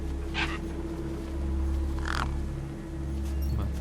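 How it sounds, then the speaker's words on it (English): Two harsh crow caws sound out, spaced apart, over a steady low mechanical hum in Beyond a Steel Sky, as gang birds hover near a corpse. "The gang birds were eyeing up the corpse hungrily."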